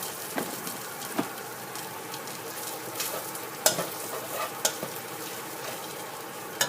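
Coriander, garlic and pepper fry in a pan with a steady low sizzle, broken by occasional sharp scrapes and clicks of stirring.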